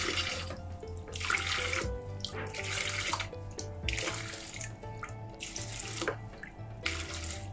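Water pumped by a Handy Oil Pump hand pump out of a boat's bilge, a steady splashing flow like a running tap, continuous and close throughout with rhythmic low thumps from the pumping.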